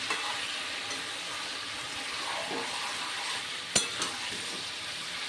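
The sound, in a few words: sautéing potatoes for aloo dum in a pan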